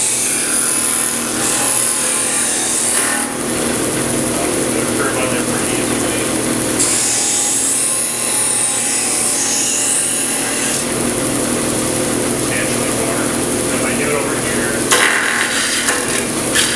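A power sander works wood on its coarser side for heavier shaping in a studio shop, giving a steady, loud abrasive whir that runs continuously throughout with rubbing texture and no breaks.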